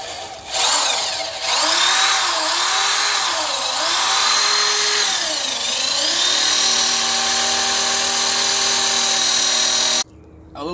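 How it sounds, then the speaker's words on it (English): Power drill with an 11/32 bit boring six guide holes for a mounting bracket, a loud steady whine that rises and dips in pitch as the bit bites, running almost continuously before stopping abruptly. "we're going to drill our guide holes now for this mounting bracket here"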